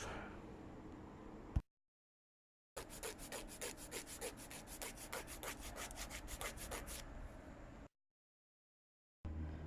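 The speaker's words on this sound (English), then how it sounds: "Then I used the 200 grit sanding paper with a sanding block to get those surfaces smooth." Hand sanding with 200 grit sandpaper on a sanding block smooths a car's rear diffuser panel, giving a steady, close rasping rub of rapid back-and-forth strokes, with short silent gaps between passes.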